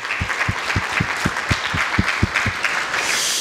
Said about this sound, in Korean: 우리 목사님 참으로 수고하셨습니다라는 마음으로 감사의 박수 한번 올려주십시다